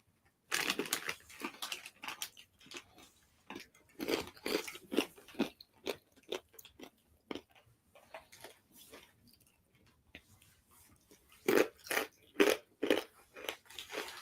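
Spicy kickin' pickles being bitten and chewed close up, a run of sharp wet crunches in an uneven rhythm with quieter pauses, then a louder burst of crunching near the end, with no talk.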